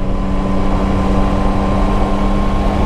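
A Yamaha Tracer 9 GT motorcycle engine hums steadily at low revs during an easy ride, a continuous loud drone with a smooth tone and wind noise.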